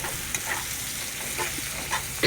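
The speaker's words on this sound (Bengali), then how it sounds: "আর এই দেখো, পেঁয়াজ ভাজতে দিয়েছি।" Onions fry in a pan with a constant crackling sizzle, and a few light stirring scrapes are spaced through it, ending in a louder clatter, with nobody talking.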